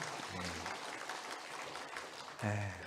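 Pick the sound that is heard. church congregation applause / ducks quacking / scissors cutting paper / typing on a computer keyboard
church congregation applause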